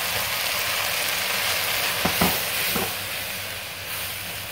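Plain flour roasts in a pan with a continuous, even sizzle and hiss, close by, with a couple of brief scraping or stirring sounds in the middle.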